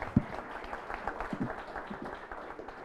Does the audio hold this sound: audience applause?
yes